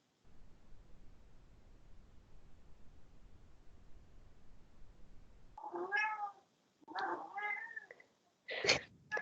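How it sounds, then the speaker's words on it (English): A pet cat named Gypsy meows several times in a row, close and fairly loud, after a stretch of quiet room hiss. "That's one of my cats."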